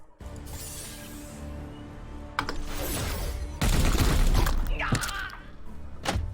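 Fiery Bolt of Fire attack in Warhammer 40,000: Chaos Gate – Daemonhunters, heard as a run of loud, dense blasts and thumps. It swells in stages and peaks into a roaring burst, then a sharp crack closes it out, with no voices.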